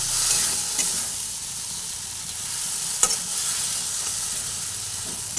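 Cashew paste is stirred in hot oil in a pan over a lowered gas flame. A steady, moderate sizzle runs throughout, with occasional sharp scraping knocks from the stirring and no talk.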